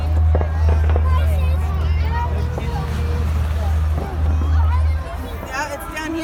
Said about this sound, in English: There's fireworks over there.